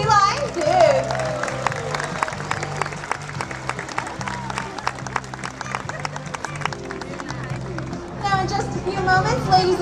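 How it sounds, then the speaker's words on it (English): A crowd claps for a California sea lion at the end of its part of a live animal show, dense applause with shouts and children's voices mixed in, fading near the end before chatter picks up. "How about one last great big round of applause for our sea lion, Duke?"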